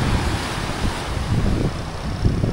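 Strong ocean waves wash against rocks placed along the Vietnamese shore, a close rushing surge with small rhythmic swells under steady wind noise on the microphone.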